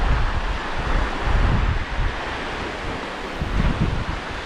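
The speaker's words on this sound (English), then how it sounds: "Right, we're in Robe on the beach. This is called Long Beach." Waves and wind on Long Beach at Robe, South Australia: steady, loud surf rumble mixed with gusty wind buffeting the microphone, swelling and easing throughout.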